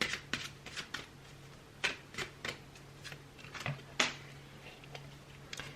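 Tarot cards are shuffled and handled close by as a series of soft flicks and snaps. Irregular crisp card slaps stand out over a quiet background.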